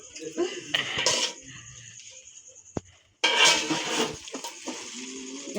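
A metal spatula scrapes and clatters against a cooking pan while stirring carrots, giving busy clinking and scraping in two bursts separated by a brief sharp click and a moment of quiet, with people talking over it.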